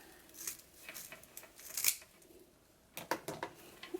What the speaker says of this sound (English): And then just cutting away the excess.